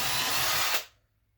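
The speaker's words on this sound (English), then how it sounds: "Drill a hole there and a hole there." A power drill bores a hole, its steady high whine running loud for under a second before it cuts off abruptly and leaves near silence.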